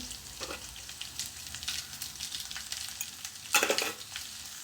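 Wild bitter gourd frying in a pan after mustard seeds have popped, with turmeric added. A steady close sizzle runs throughout, with stirring scrapes and a louder spattering burst near the end.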